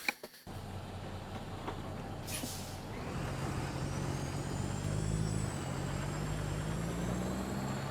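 In a trucking simulator game, a hiss of air brakes releases before a heavy truck engine drones steadily and builds slightly as it pulls away, with a faint rising whine above it.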